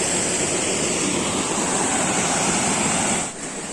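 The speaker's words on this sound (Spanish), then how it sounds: "ahí tenemos una caída de agua" A waterfall drops into rocky pools in the Brazilian forest, giving a steady, loud broadband roar of rushing water that holds almost unchanged throughout, with a brief dip near the end.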